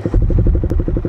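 A Yamaha STX motorcycle engine under restoration runs during a test, giving a loud, close, rapid and even thumping pulse with a faint clatter and no speech.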